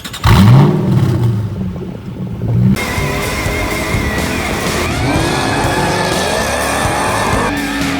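A stock 2005 Ford GT with a muffler delete revs hard at a racetrack, a loud engine roar that climbs and holds through several sustained pulls, with a sharp bark at the start and no voices over it.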